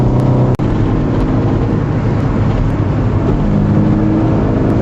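A Honda CRX Si drives uphill under steady throttle, its engine and road noise a loud continuous drone heard from inside the cabin, with no talking.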